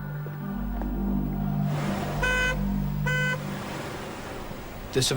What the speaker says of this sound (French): une voiture avec les feux stop allumés sur le côté de la route, actionnant son klaxon